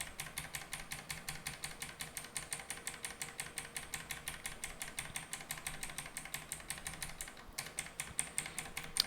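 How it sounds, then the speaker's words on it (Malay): Rapid, steady typing on a computer keyboard gives a long run of evenly spaced, faint clicks with a short pause near the end, heard alone with no talk. "Bising sikit keyboard"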